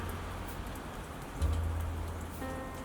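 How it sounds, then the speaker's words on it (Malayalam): Steady, dense rain mixed with snow patters down continuously on surfaces, a soft even hiss with a low rumbling background. "അത് മഴയും പിന്നെ സ്നോയും കൂടിയിട്ട് രണ്ടും കൂടിയിട്ട് മിക്സ് ചെയ്തിട്ടാണ് വീണുകൊണ്ടിരിക്കുന്നത്"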